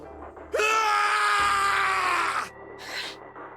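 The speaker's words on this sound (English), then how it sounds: "His scream echoed through the incineration chamber, full of rage and despair." A male character in the video game Zero Escape: 999 lets out a long, loud, strained scream of rage in an incineration chamber, sustained for about two seconds before a shorter, quieter cry follows.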